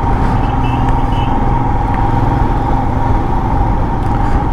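A vehicle making a U-turn through an underpass on a road trip toward Jaipur, a steady loud engine drone with road rumble, close and continuous, no speech.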